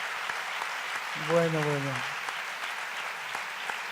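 Audience at a women's empowerment conference applauding steadily, a continuous wash of clapping throughout, while a voice speaks briefly over it near the middle.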